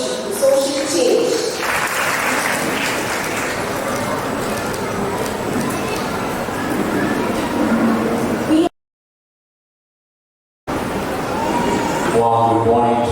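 Applause from an audience at a kindergarten initiation ceremony, a steady broad wash of many hands clapping that runs for several seconds, breaks off into a short silence, then picks up again.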